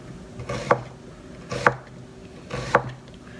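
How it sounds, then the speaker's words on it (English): A knife chops through onions on a cutting board while they are prepared for Mexican-style pickled onions. Three distinct, evenly spaced chops land close by, each a short crisp knock, with quiet pauses between and no talking. "We're going to cut all our onions up just like that."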